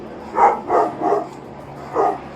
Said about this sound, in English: Come to the hole, we're sending a dog back in here.